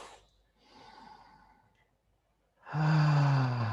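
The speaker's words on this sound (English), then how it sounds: "And taking 3 deeper breaths" Slow, deep breaths during a breathwork exercise: a soft inhale, a pause, then a louder, fuller exhale with a throaty sighing tone, close and unaccompanied by talk.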